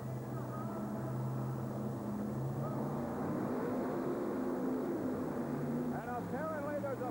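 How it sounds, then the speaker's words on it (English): Monster truck engines rev at the starting line of a 1989 indoor race at the Hoosier Dome, a loud, steady mechanical roar that rises and swells throughout, with an announcer talking over it. "You hear the RPMs pick up in these power plants."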